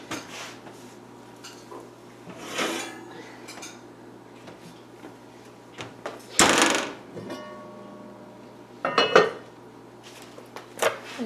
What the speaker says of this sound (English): This is a very hot Dutch oven, and I'm going to take it out